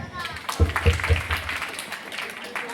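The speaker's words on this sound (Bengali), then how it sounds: "আপনাদের জন্য একটা হাততালি" Audience at a late-night dance academy show breaks into applause, a few louder claps standing out near the front before the sound settles into a loose, moderate patter with some voices mixed in.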